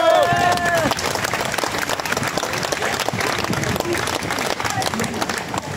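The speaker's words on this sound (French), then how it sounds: "on peut crier et puis applaudir pour Philippe" Crowd applause and cheering at an air festival parade in Villeneuve-sur-Lot, with a dense, sustained wash of clapping throughout and a voice or whistle briefly rising at the start.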